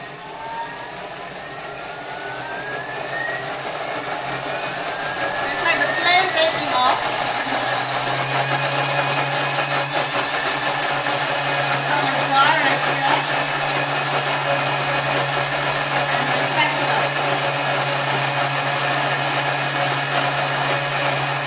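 Kitchen machine whirring at speed 10, a loud steady motor hum that ramps up early and then holds with a whining tone, while people talk over it.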